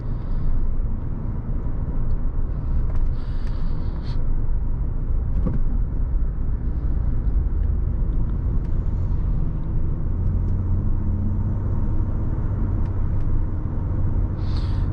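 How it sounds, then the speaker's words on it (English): A 2014 Ford F-150 Platinum pickup with a V6 engine cruising along, heard from inside as a steady, subdued low drone and road rumble that holds evenly throughout with no talking. "It's a very refined and quiet V6."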